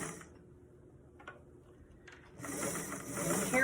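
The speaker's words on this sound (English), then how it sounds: "careful stitching, go all the way around." Sewing machine stitching around a bucket hat's seam, starting at a side seam, heard as quiet mechanical ticks at first before a steady, louder rhythmic whirring run of stitches builds near the end.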